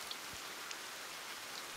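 Rain falls steadily in a dense, even hiss with faint scattered drops, moderately soft and continuous, with no voices.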